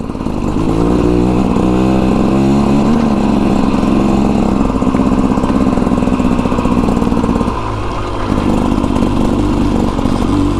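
A 2024 Beta Xtrainer dirt bike engine pulls in second gear on a slow, loose, rocky mountain-pass trail. Its loud, close, continuous buzzing drone rises and falls in pitch with the throttle and eases off briefly near the end, with no voices.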